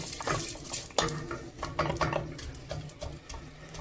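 Onions being stirred in oil in a pot for lamb curry, with irregular scraping and clinking of a spoon against the pot, quiet and close, no talking.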